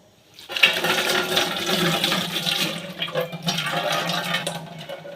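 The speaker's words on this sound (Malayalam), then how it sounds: "കൈയൊക്കെ ഒന്ന് കഴുകുന്നുണ്ട്." Water runs steadily from a tap as hands are washed in a kitchen while banana chips are being made, a close, loud rushing splash that starts abruptly and continues, no talking.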